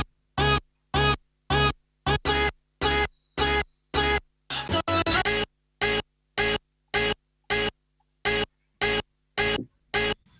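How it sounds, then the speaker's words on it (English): A chopped a cappella vocal sample, pitched up high and triggered from a keyboard in a trap production, fires in short evenly spaced stabs with a brief stuttering cluster midway, each bite clipped off cleanly into silence. "I just chopped it up and pitched everything up a lot"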